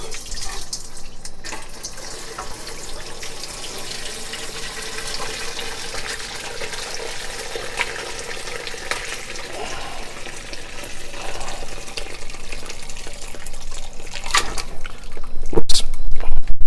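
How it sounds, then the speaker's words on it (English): Chicken stock poured through a colander, a steady close splashing and gushing of liquid that swells toward the end with a few sharper splatters. "we're ready to strain out our chicken stock"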